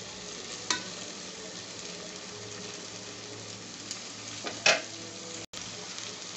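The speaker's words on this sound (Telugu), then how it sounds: "వెజిటేబుల్స్ బాగా ఒక 5 నిమిషాలు వేగనిద్దాం." Vegetables for a vegetable biryani frying in a pan, giving a steady, low sizzle with a few brief stirring clinks and scrapes, and no voices.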